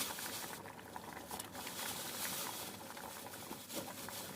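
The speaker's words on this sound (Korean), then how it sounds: "이제 사태살을 모두 넣어 삶아주세요." Beef shank boils in a pot of water for bone broth, a steady close bubbling and rolling simmer that runs unbroken throughout without voices.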